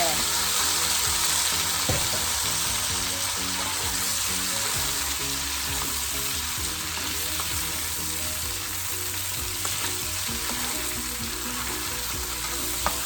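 One kilo of shrimp sizzles loudly and steadily in a hot frying pan, a constant crackling hiss with occasional stirring clatter.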